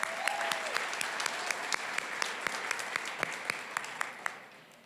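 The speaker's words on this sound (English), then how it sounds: "Let's clap." An audience at an annual meeting applauds steadily throughout, a dense wash of clapping with a few sharper individual claps standing out, fading slightly at the end.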